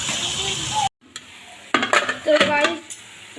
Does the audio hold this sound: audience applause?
no